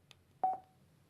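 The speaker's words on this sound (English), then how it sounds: "To start an intercom conversation, simply press the intercom button quickly." A short electronic beep-tone sounds from a Cardo Scala Rider Freecom 2 motorcycle intercom after a quick press of its intercom button, a single clean tone standing alone in near silence.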